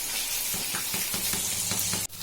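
Steady frying sizzle of fish in oil with soft, regular scraping or stirring taps, fairly quiet, ending with a brief handling clunk.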